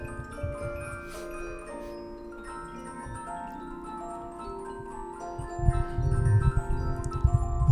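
A Swiss music box plays the Swiss vintners' song, a steady tinkling metallic melody with sustained comb tones, growing a little louder and fuller toward the end.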